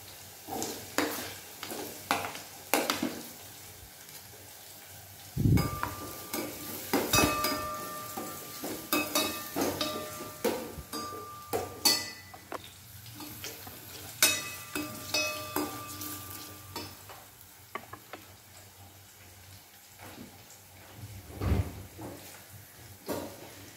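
Onion and chili fry in a pan for Rajasthani dal bati, a soft low sizzle broken by intermittent clinks, stirring and utensil knocks, fairly quiet and close.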